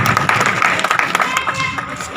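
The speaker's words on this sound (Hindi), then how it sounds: "एक बार चाहूंगा जोरदार एमएलए साहब के लिए तालियां बजाएं" A crowd claps loudly for an MLA at a memorial blood-donation camp in Indira Nagar, Pali, producing a steady, dense wash of hand claps that holds its level throughout.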